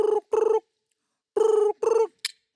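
A voice mimics a telephone ringing: two bursts of buzzy trilling tones, a pause, then two more bursts, followed by a short high chirp, close and clear with no other talk.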